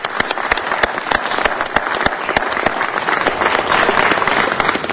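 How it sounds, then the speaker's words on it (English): Audience applause at a city council meeting, with sharp close individual claps over a dense crowd clapping that swells and stays loud throughout. "A big round of applause for this grand,"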